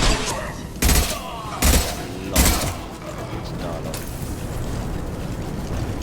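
Gunfire in the video game Mass Effect 2 from Blue Suns and mercenary fights: three loud, sharp bursts about a second apart, followed by a steady rumbling din of combat.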